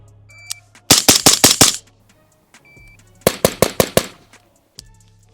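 A general purpose rifle fires two rapid strings of about six sharp, loud shots each, separated by a brief pause, with faint mechanical clicks before each string.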